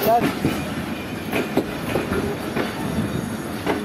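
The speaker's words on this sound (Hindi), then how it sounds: "हुण जड़ा ना विने क्योंकि सारी ट्रेन जी वो चल पई है ना" A passenger train running between Shujabad and Karachi in Pakistan rumbles steadily from inside, with rhythmic wheel clatter and a brief squeal at the start, all close and constant.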